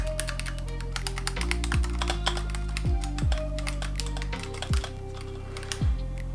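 Rapid, crisp key presses clatter across a Razer Huntsman Mini Analog 60% keyboard with an aluminium frame, a close, quiet stream of taps with occasional heavier strokes.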